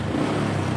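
A Honda motorcycle engine with its original Honda exhaust runs steadily nearby, a continuous rumbling idle or light rev with no talk over it.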